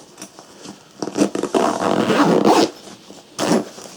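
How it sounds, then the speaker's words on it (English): A Cabin Max travel bag is zipped up, with several short zipper pulls and then a long continuous zip, close and clear, with no talk. "let's see how it zips up now"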